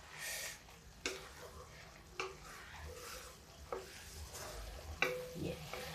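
Masala for a dhaba-style whole masoor dal cooks in a pan, with a faint low sizzle broken by a few sharp scraping clicks of stirring, quiet and close.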